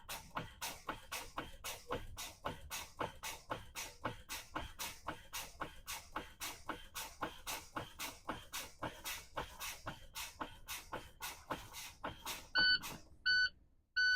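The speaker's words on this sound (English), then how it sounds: "both my low pressure warning light and buzzer came on when it was supposed to" Inside a truck cab, a long run of evenly spaced, rapid air pulses gives way near the end to a few short, sharp electronic blasts of the low air pressure warning buzzer, close and fairly quiet.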